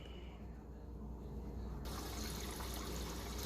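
Water flushed through a GE refrigerator water filter is poured out of a container, a steady splashing flow that grows louder and fuller partway through, with no talk.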